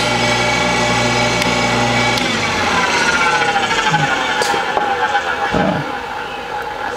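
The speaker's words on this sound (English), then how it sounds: "And that's grinding valves." A valve from a Subaru EG/EZ3X engine is ground on a machine, a loud, continuous high whine with a rough grinding texture that shifts pitch and eases slightly near the end, close up with no talk.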